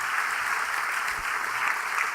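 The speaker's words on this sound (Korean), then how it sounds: "우리 다시 한번 감사의" A church congregation at an installation service claps in a brief, dense burst of applause, many hands patting steadily and evenly, with no voices over it.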